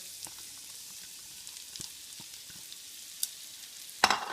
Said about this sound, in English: you can stick your onions and your mushroom in there